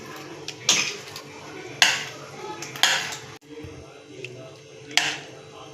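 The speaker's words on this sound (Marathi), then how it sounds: "आता आपण याला चांगलं मर्ज करूया" Chilli potatoes are stirred in oil in a pan for a Korean-style dish, with a utensil scraping and clattering against the pan in several separate strokes, close and moderately loud.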